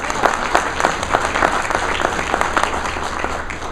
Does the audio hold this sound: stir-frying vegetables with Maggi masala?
no